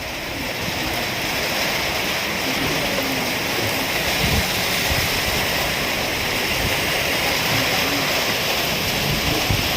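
Heavy summer-storm rain pours steadily in front of a house, a dense broadband roar of drops and gusting wind that holds constant and loud throughout, with no pauses.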